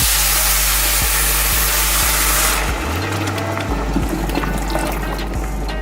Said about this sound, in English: this is perfect time to add my water